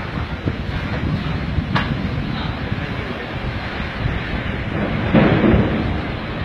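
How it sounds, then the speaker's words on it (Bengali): Strong gusts of wind roar continuously during a tornado passing over Chittagong port, a dense buffeting rush with rumbling microphone noise and no speech. "এখন এটা হাওয়া আসছে হালকা বাতাস পাইলে"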